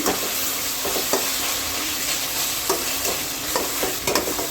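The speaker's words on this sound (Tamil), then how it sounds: "இப்போது தக்காளி நல்லா ஓரளவு நல்லா வதங்கிடுச்சு" Tomatoes sauté in a hot pan for chicken gravy, giving a close, steady sizzle broken by occasional scraping stirs of a spoon, with no voices.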